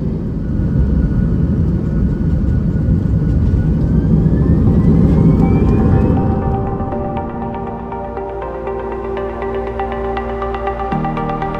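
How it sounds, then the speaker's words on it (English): Delta airliner engines spooling up for takeoff: a loud, steady broadband roar with a rising whine that climbs in pitch, then settles into a sustained drone with tonal hum. "Delta 611, Mayhem Tower, fly heading 180, runway 17, clear for takeoff"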